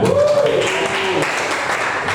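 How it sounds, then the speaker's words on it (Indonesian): Brief burst of classroom applause for a student during a lesson, steady clapping over a couple of seconds with a short spoken word at the start. "Terima kasih, tepuk tangan dulu"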